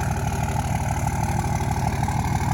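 A straight-piped Cummins 24 valve diesel idles loudly and steadily, its deep, lumpy rumble pulsing evenly throughout without any revving.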